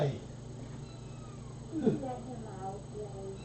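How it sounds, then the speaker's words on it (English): A cat at a feline rescue center gives a single short meow in a quiet indoor space, with faint background noise around it. "Who's meowing?"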